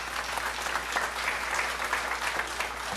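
A church congregation applauds in a dense, steady wash of clapping that lasts throughout, moderately loud and slightly distant.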